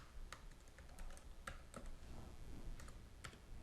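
Scattered keystrokes click on a computer keyboard at an irregular pace over a steady background hum, fairly faint and with no voices.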